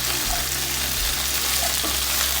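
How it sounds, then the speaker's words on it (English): Chopped carrots and other vegetables frying in a hot pan for a potato and chicken stir fry give off a steady, close hiss of sizzling oil, with soft stirring scrapes and shuffles running underneath. "I also give this a good stir to combine."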